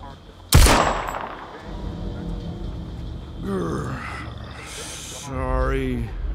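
A single sharp gunshot in the video game Jagged Alliance: Rage!, loud and close near the start, followed by game characters speaking in strained, groaning voices.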